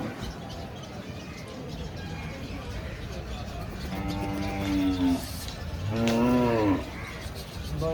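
Calves moo at a bull and cattle market in Chalisgaon, two drawn-out calls close by over a busy crowd murmur, with people talking in the background.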